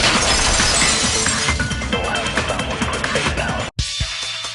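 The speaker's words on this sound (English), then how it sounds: "heard the sound of the window shattering." A window's glass shatters loudly in Danganronpa 2, a dense crashing burst that fills the clip before a brief cutout near the end.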